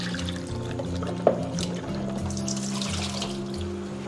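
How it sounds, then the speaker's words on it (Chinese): Dried shiitake mushrooms are rinsed under a running kitchen tap, water pouring and splashing steadily, with one brief clack partway through and no talk. "接下来准备一把干香菇，我们先给它淘洗干净"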